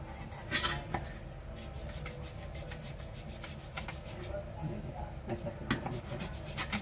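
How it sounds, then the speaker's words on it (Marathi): Two potatoes are grated by hand for a samosa roll. The rasping, rhythmic scraping strokes are fairly faint and close, with scattered sharper scrapes. "इथे आपण दोन बटाटे घेतले ते आता आपण खिसून घेणार आहोत"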